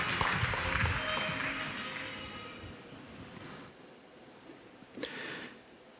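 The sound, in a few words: audience applauding speakers coming on stage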